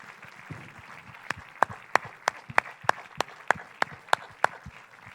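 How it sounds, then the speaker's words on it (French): A few people clap sparsely at a film festival closing ceremony in Saint-Jean-de-Luz, with distinct, sharp claps at roughly regular intervals over a quiet room. "Allez, plus fort les applaudissements."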